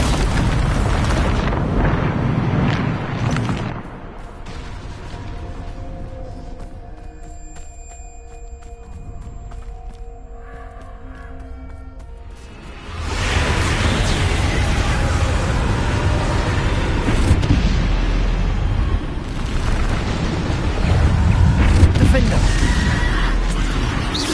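In the Hogwarts Legacy video game the Bombarda spell goes off with a loud, rumbling explosive roar, which falls to a quieter tonal stretch before a second sustained blast of noise.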